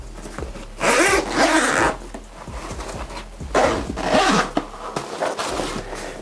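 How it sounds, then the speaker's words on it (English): Repeated zipper pulls on a bag pocket, close and fairly loud, with rasping strokes coming in several separate runs. "You can unzip this here"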